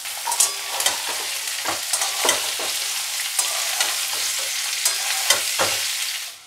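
Carrots and capsicum stir-fry in garlic paste in a hot pan, a steady sizzle broken by repeated scraping stirs of the spatula, close and fairly loud, no talk.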